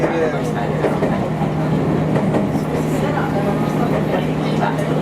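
Interior of a Meitetsu Nagoya Main Line limited express train running between Kō and Toyohashi, a steady loud rumble of wheels and motors with faint rhythmic clicks, Japanese onboard announcements over it.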